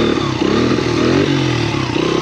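A small motorcycle engine revs hard and close for about two seconds, its loud buzzing drone rising and falling as the throttle is worked during wheelie practice.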